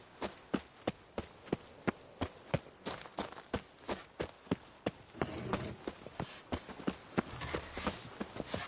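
Hooves of a galloping horse in The Witcher 3 on PS5, a steady rapid clip-clop of sharp, evenly spaced thuds close up, with a brief rougher patch midway.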